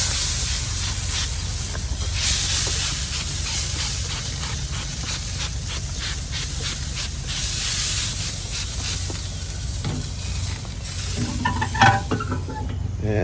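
Apple juice spritzed from a spray bottle onto pork shoulder in a smoker, a series of short airy hissing bursts repeated over the steady smoker background, close by, with a few clinks near the end.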